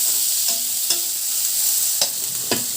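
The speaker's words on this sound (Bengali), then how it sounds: "ছোলা দিয়ে একটু নাড়াচাড়া করে নিলাম।" Chickpeas and lightly fried onions get stirred in a pan, with a constant bright sizzle and four distinct spoon scrapes and knocks against the pan, close and fairly loud, with no voices.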